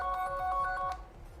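A phone rings with a bright, repeating electronic ringtone, loud and close, cutting off after about a second.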